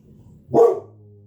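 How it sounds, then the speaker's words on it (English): A single short, sharp dog bark, close and loud, over a quiet low background hum. "barks at everybody walking down the street"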